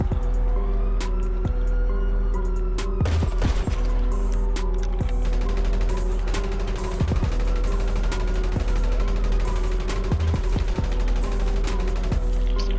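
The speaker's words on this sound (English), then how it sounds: "He got the minigun out again, dog." Dense, rapid gunfire rattles almost without pause, overlapping a wailing police siren and engine rumble in a chaotic GTA 5 freemode street fight with a minigun, with sharp louder shots standing out now and then.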